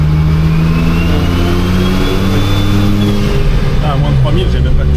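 An Audi with a Porsche-based turbocharged engine revs hard up close: a loud, harmonic-rich engine roar with a rising turbo whine, steady and dense over five seconds, while people talk over it.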